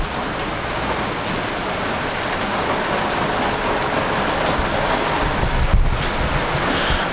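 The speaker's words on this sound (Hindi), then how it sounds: "सो फुल बारिश है।" Heavy rain pours steadily during a motorcycle trip in Ladakh, a dense, even hiss of drops striking surfaces with a brief louder thump near the end and no voices.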